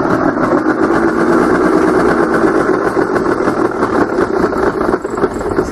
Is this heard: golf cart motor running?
yes